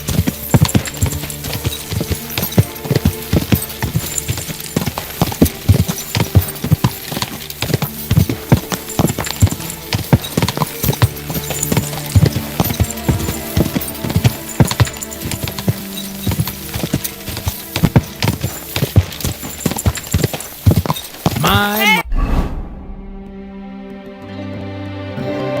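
Rapid, steady clip-clop of horse hooves galloping in the video game Kingdom Come: Deliverance 2, over a rhythmic backdrop, stopping abruptly near the end and leaving a faint fading tone.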